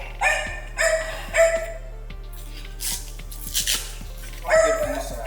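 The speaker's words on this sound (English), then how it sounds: "Got my puppy back there cheering me on." A puppy barks in short, scattered yips and woofs over a steady low hum during a gym bench-press session, a few sharp barks spaced irregularly across a few seconds.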